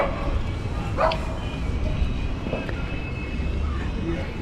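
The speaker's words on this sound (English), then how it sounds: "Oh, the dogs are protecting their boat." Dogs bark a few times at moderate distance on a boat in Whitstable harbour, over steady outdoor background noise, with a faint aircraft-like hum.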